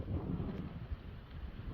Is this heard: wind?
yes